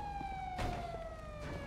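A police car siren in a video game wails in a steady, slowly falling tone at moderate distance, with a short burst of noise partway through and no talk.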